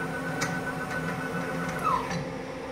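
A Microkinetics CNC milling machine moving along an axis, a steady stepper-motor whine and hum with faint ticks, close and continuous, with no talking.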